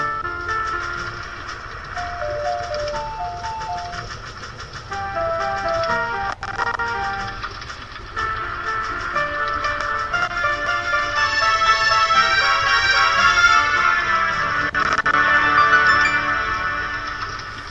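Ocarina tune from the Zelda video game Ocarina of Time, learned at Death Mountain Crater: a steady melodic line of short stepwise notes over a dense, continuous game music backing, with no talk.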